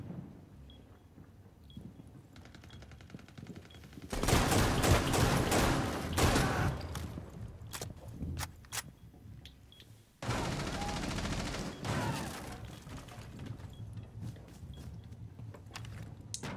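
Sustained automatic gunfire bursts out in the Rainbow Six Siege video game, with a long loud volley, a pause, then another extended stretch of rapid shots mixed with gear clatter.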